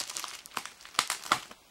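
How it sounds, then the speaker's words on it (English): Crinkly plastic bubble wrap is pulled and unwrapped from around a 3020 CNC router's control box, a series of quick crackling, crumpling bursts with short pauses between them, close and fairly quiet. "I'm now opening the control box"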